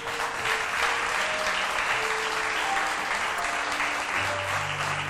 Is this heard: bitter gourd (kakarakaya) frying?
no